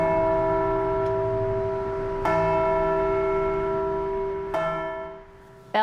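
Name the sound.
church bells ringing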